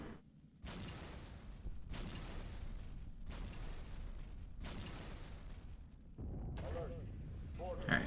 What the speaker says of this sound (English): let's throw all our nades